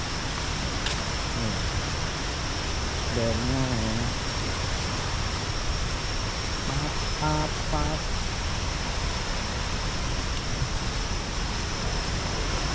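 At Haew Suwat waterfall, water rushes in a steady broadband roar that continues throughout. A few brief spoken words sit over it partway through.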